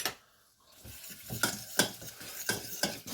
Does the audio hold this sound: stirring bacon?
yes